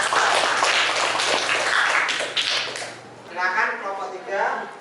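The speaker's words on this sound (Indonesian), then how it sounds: "kasih tepuk tangan untuk kelompok 2" Students in a classroom clap for a group after its presentation, a brief burst of applause over a low hum that fades after a few seconds as a voice begins speaking.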